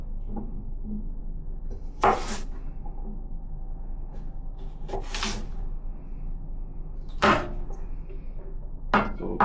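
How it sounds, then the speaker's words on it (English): Celery stalk diced with a knife on a cutting board in a home kitchen, giving a few sharp, separate chopping knocks spaced irregularly over a low background hum, fairly close. "So we'll quickly dice up that celery."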